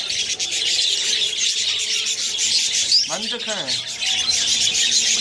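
A captured male spangle budgie gives a single loud, harsh call lasting about half a second, set against steady rubbing and scraping noise and faint chirps from other birds.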